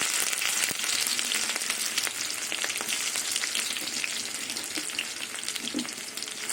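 Steady, crackling sizzle of chopped garlic and split dried red chilies frying in hot oil, continuous and close throughout, with a few sharp pops and a brief clink near the end.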